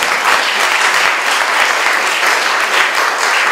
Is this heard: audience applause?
yes